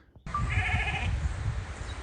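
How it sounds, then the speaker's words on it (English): Sheep bleat inside a stable, one clear bleat carrying over a steady low rumble of animals moving and shuffling close by, with no voices. "So the stable is occupied by a horde of sheep."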